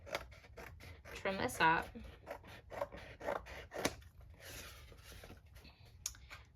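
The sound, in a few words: scissors trimming paper for a collage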